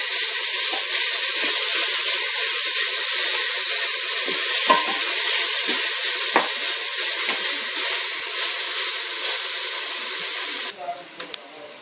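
Finely chopped onions frying in a pan, giving a steady, bright sizzling hiss with occasional pops and stirring clinks, which cuts away abruptly near the end.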